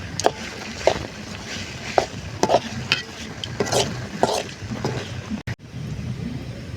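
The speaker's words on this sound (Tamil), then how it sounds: "வெங்காயத்தோட இஞ்சி பூண்டு பேஸ்ட்டை போட்டு வதக்கணும்" Onions with ginger garlic paste and salt sautéing in a pan for pepper chicken, with a steady sizzle and repeated scraping stirs at a regular rhythm, close and fairly loud, no talking.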